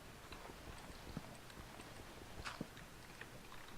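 Horse hooves clip-clopping in the video game Minecraft, a steady rhythmic patter of hoofbeats at moderate volume over a constant game background hum.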